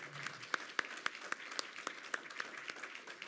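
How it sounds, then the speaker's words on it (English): Sparse, faint clapping from a small audience at a panel event, individual claps spaced irregularly and heard from a distance. "Ladies and gentlemen, a round of applause for Mayor Brad West, Mayor George Harvie."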